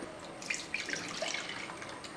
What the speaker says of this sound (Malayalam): ആ പുളിവെള്ളം നമുക്ക് ഈ ചട്ടിക്കകത്തോട്ട് ഒഴിച്ചു കൊടുക്കാം